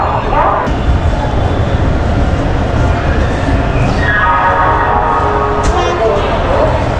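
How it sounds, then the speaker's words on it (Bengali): An express train pulls out of Howrah station, its low rumble and rattling steady throughout, with a rising horn or whistle-like tone entering midway and voices murmuring under the noise. "হাওড়া থেকে একদম রাইট টাইমে কিন্তু আমাদের ট্রেন ছেড়ে দিল"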